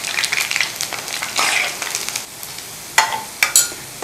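Lentil dumplings for dahi bhalla fry in hot oil, a close, steady sizzle with spattering crackles, plus a few sharper clicks and scrapes as they are stirred and turned.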